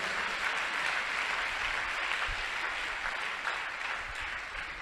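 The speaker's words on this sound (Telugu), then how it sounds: "కొట్టు చప్పట్లో ఒకసారి" An audience at a sermon claps hands together in sustained, dense applause that holds steady throughout, with no voices over it.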